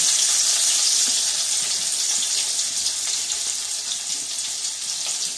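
Sliced onion fries in hot oil already used for potato and ol (elephant foot yam) and gives off a continuous, dense, close sizzle that stays strong throughout, with faint stirring ticks underneath.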